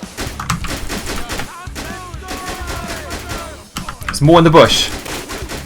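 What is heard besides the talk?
gunfire in GTA 5 video game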